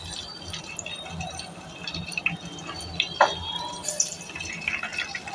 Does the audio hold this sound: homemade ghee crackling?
yes